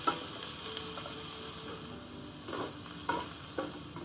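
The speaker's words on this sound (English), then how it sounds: "I'm going to saute this mixture for about 5 to 7 minutes until those onions are translucent" Diced onions and red bell peppers sauté in a pan, a soft steady sizzle with faint crackles and occasional light scrapes of stirring, quiet and continuous.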